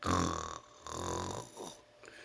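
A man snoring quietly nearby: two or three soft, nasal breaths with a low rattling tone, slow and uneven, heard alone.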